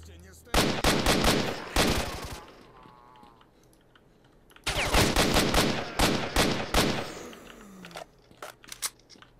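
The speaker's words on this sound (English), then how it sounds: "Mercs are shooting at me." Mercenaries firing bursts of automatic gunfire in the STALKER video game, in two loud rapid volleys separated by a quieter pause, each a sharp staccato rattle of close shots, with a few scattered shots at the end.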